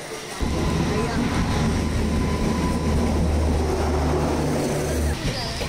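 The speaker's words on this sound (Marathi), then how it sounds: "फायनली आपली ट्रेन आलेली आहे" A train rumbles in loud and close at a Konkan station in heavy rain, with a heavy, steady low roar and rattling that holds for several seconds.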